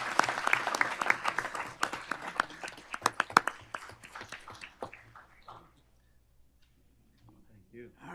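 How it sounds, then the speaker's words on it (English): Audience applause for retirees at a school board meeting, steady clapping from a room of people that thins out and fades after about five seconds, followed by quiet with a voice at the end. "So I would like us to give them a round of applause for those doing that."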